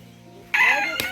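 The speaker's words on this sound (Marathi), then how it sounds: "आमच्या गावात कोंबडी ठेवलेली आहे बघा हे सगळी गावठी कोंबडी" Village rooster at a small family poultry farm giving a single loud, close crow, with other chickens faintly in the background.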